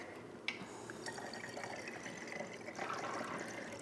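Water mixed with lemon oil poured into a container during household cleaning prep, a steady close liquid splash and trickle running for several seconds with a sharp drip-like onset.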